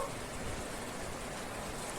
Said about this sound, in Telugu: బయట చూస్తే ఫుల్ వర్షము